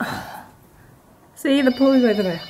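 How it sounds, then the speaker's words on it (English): A telephone rings loudly in a hotel room in Puglia, Italy, a sustained electronic ring that starts partway through, after someone speaks briefly. "that was just the phone ringing."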